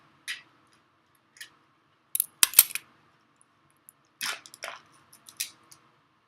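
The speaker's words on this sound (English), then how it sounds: "So, scissors." Sparse, crisp snips and clicks of scissors cutting into packaging, close up, in short irregular bursts separated by silence.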